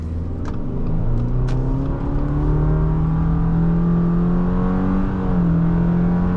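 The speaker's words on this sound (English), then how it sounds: "we're going to try one more attempt on our 0 to 60" A 2024 Subaru Forester Wilderness accelerating hard from a standstill to sixty, its engine holding a loud, steady droning pitch heard from inside the cabin, with a brief dip near the end as the transmission simulates a shift.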